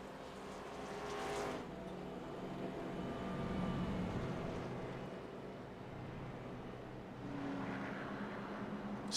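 A stock racing car idles in a racing video game, a low, steady engine rumble running quietly throughout with slight swells in loudness.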